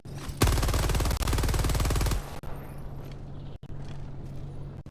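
A Helldivers support weapon in a different fire mode lets off a dense, fast automatic burst lasting nearly two seconds, loud and close, followed by low game ambience with faint clicks.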